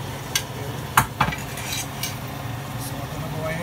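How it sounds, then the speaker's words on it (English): Oxtail stew being stirred in a pot, a few distinct scrapes and knocks of the spoon against the pot around the first seconds over a soft steady simmer, close and fairly quiet. "So I'm gonna go ahead and stir this."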